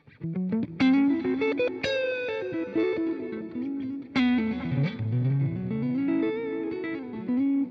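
An electric guitar played through a Line 6 Helix Floor with a glitz reverb and pre-delay rings out in loud, shimmering chords and melodic runs that carry long, washy tails.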